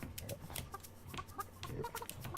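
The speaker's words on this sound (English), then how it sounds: "There we go. Chickens." Chickens cluck repeatedly in the video game Burly Men at Sea, with short bursts of clucking set against soft game ambience and music.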